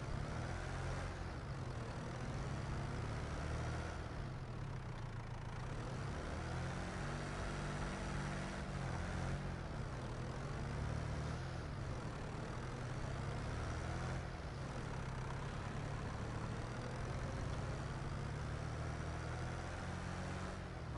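Tractor engine in Farming Simulator 25 pulling up a hill on Ronîda Island, a steady low drone holding throughout with slight swells in load, loud and close, no voices over it.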